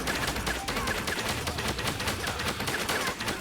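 Continuous rapid automatic gunfire from a gun in the video game Angeldust, a tight, even rattle of shots running unbroken and loud from start to finish with no talking.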